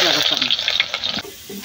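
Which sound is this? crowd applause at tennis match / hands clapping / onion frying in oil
onion frying in oil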